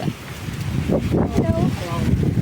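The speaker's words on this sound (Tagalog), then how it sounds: "Ang lakas ng hangin." Strong wind buffets the microphone on the Lung Ha Wan country trail, a rough, gusting roar with people talking faintly underneath.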